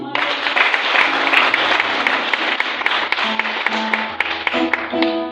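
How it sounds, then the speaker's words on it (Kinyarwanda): A church congregation applauding during a sermon, dense loud clapping that continues for several seconds, with a few voices and musical tones coming through near the end. "Ariko Imana y'imbabazi twayikomera amashyi."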